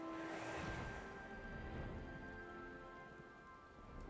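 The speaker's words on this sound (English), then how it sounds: "Well, it do be raining." Steady rain falls in the Amalj'aa... no—in the Alamigan Quarter of Final Fantasy XIV, a constant close hiss of rain with a soft patter and a faint musical tone underneath, unbroken for the whole stretch.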